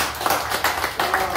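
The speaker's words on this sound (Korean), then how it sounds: "우리 이 시간 우리 박수 한번 치겠습니다." A crowd at a neighborhood office opening in Sinpyeong 1-dong, Saha, Busan, claps in loud, rhythmic bursts, close and lively, with no talk over it.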